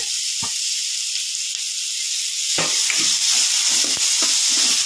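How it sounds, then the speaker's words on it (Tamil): Onion and tomato sautéing in a pan for a dried white peas masala, a steady bright sizzle with a few soft stirring scrapes and taps breaking through in the second half. "வெங்காயம் தக்காளியும் நல்லா வந்துட்டு வதங்கி வரணும்"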